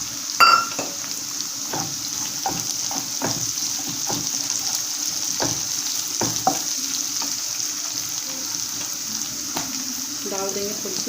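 Chopped green chilies sizzle in a hot pan while vegetable sambhar is being made: a constant soft frying hiss near the mic, broken by scattered clicks and scrapes of stirring, with no voices.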